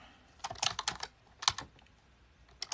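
Quick bursts of keystrokes on a computer keyboard, clicking in uneven clusters with short pauses between them, close and clear with no talking.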